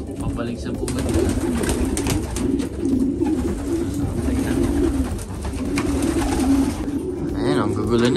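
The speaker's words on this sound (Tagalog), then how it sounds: "Mga kalapatids, nag-aabulan na." Pigeons coo and flutter steadily as they chase one another around their nesting area, a continuous close cluster of low calls with no clear pauses.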